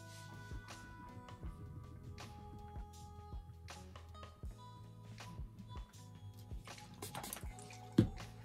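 Quiet liquid drips and trickles close by, with scattered soft splashes and a few faint clinks as thick melted soap base is poured into small soap molds.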